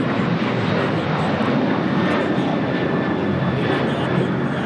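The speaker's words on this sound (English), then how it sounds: "This is American Airlines 1585 taking off to Chicago O'Hare on a 737-800." An American Airlines Boeing 737-800 takes off from LAX for Chicago O'Hare, its jet engines a dense, hissing roar that stays steady and fairly close for a few seconds.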